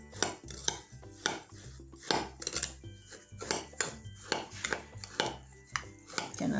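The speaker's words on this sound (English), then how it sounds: "So I just mix it together" Ground meat is worked together with breadcrumbs in a bowl for meatloaf, giving a run of soft repeated clinks, taps and squelchy knocks, close and moderately quiet.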